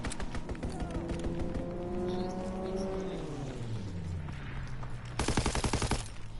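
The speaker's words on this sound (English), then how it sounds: "I will shoot down all these plans with just my pistol" Pistol gunfire in a video game shooting down planes, heard as rapid repeated shots with engine-like whines sweeping downward, ending in a dense close burst of shots.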